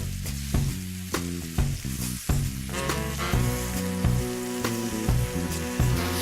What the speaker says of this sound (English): let's start frying these chicken pieces